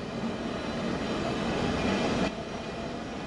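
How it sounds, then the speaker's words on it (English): A Southeastern high-speed train running on the London to Ashford and Faversham line in Train Sim World 3, a dense, loud rolling rumble and rail roar that drops slightly in level near the end. "This is Train Sim World, Southeastern High Speed, London to Ashford and Faversham."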